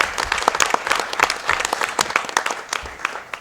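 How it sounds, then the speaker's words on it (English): A small group applauds at a board of education meeting, with brisk individual claps that are distinct and close and keep up a lively uneven rhythm for a few seconds. "So a round of applause to you for that initiative, because that was fantastic."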